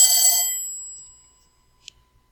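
A telephone rings loudly in the background for about half a second at the start, then stops abruptly, leaving near silence with a faint click afterward.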